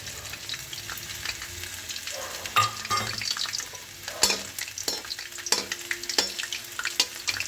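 Whole cardamom, cinnamon and cloves sizzle in hot white oil, a steady close frying hiss broken by sharp pops and crackles as the spices burst.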